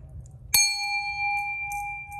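A Japanese bronze bell, thick-walled with decorative relief, is struck once close by, giving a sharp strike followed by a clear sustained ringing tone that holds steady, with soft background rumble.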